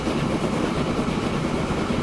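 Train moving in the video game Transport Fever 2, giving a dense continuous rumbling roar with steady rail noise throughout, close and loud.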